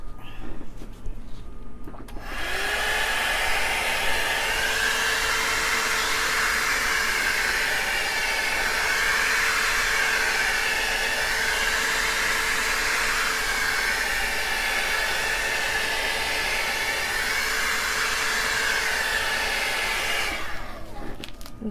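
A heat gun blows steadily over an acrylic dirty cup ring pour in gold and brown paint. The close, loud whooshing roar runs continuously for about twenty seconds, then cuts off.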